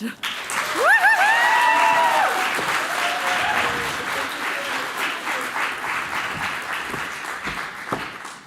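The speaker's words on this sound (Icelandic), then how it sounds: "við verðum að gefa henni rosalega gott klapp" Audience applause fills a conference hall at an energy event, a sustained broad wash of clapping that stays loud throughout, with a voice speaking briefly over the start.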